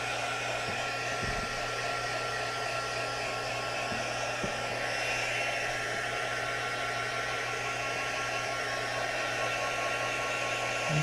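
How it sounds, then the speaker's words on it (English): A heat gun blows steadily while drying a mixed media junk journal cover made from a cereal box and scraps, giving a constant close whooshing hum that stays even from start to finish with no voices. "we're going to hit it with the heat gun"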